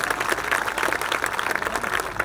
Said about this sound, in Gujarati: ભાઈ તાળી તો પાડો